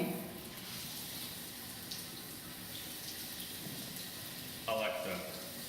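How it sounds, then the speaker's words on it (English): Water from a smart shower's right-side body spray runs steadily throughout, a constant hissing spray at moderate distance, with a brief louder burst near the end. "Alexa, turn on right body spray."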